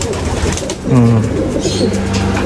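A young racing pigeon gives a low, close coo partway through, over steady background noise and chatter in the loft.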